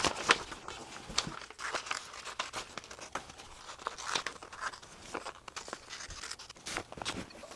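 Scissors cut through folded paper for an axe mask, a close series of crisp snips and crinkles at an uneven rhythm, with no talking.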